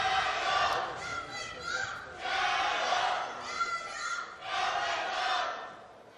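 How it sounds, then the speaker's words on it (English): Chinese team supporters chanting in the crowd at a weightlifting arena during a 71kg snatch competition: loud, rhythmic chanting in repeated surges from many voices, filling the hall with a steady crowd roar underneath. "Just immaculate chanting there from the Chinese team in the crowd."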